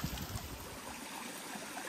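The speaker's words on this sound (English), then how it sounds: "Listen to the water rushing right there." A stream flows beside the Appalachian Trail on a thru-hike. Water rushes and gurgles in a steady, soft wash, and a brief low rumble sounds at the start. The sound is faint and continuous with no talk.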